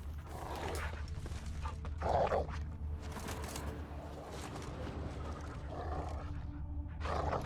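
Dogs in The Witcher 3 game growl and bark in short snarling bursts over a low ambient rumble, moderately close, with no talk over them.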